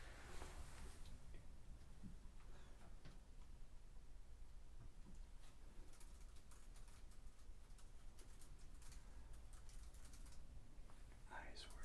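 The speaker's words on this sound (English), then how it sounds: "I should probably be typing in my results into my computer" Soft, faint keyboard typing in a quiet room, with scattered light key clicks over a steady low hiss and no talking.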